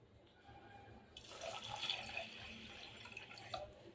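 Water runs into a pan of sago on a stove, a soft continuous splash and trickle that swells after the first second and stays fairly faint.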